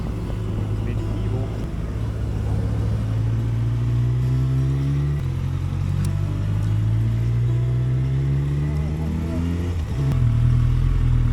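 A motorcycle cruises along a New Zealand road between Auckland and New Plymouth, its engine a steady, loud drone with wind rumble and a brief shift in pitch, while a voice talks over it.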